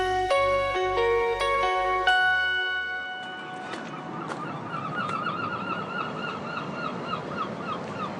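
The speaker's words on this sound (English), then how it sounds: "Sounds of the seagulls" Seagulls call repeatedly just outside Horley train station, their cries scattered over a steady outdoor background after a short musical jingle fades out.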